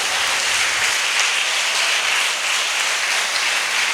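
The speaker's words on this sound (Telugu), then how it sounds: "చప్పట్లు కూడా దేవుని స్తుతిద్దాం రారా" A congregation claps together in praise at a church's 25th anniversary thanksgiving celebration, a dense, steady wash of many hands sustained evenly throughout without voices.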